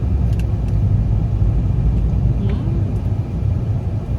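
Car rolling along slowly, a steady low rumble of the engine and road noise close up throughout, with faint clicks and a voice in the background.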